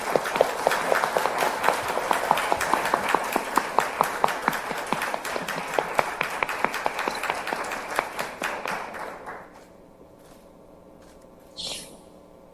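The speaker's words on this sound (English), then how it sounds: "let's give Prime Minister Rasmussen a round of applause to welcome him." An audience at a live-streamed event applauds to welcome Prime Minister Rasmussen, steady dense clapping close and loud for about nine seconds, then fading out to near silence with one brief noise near the end.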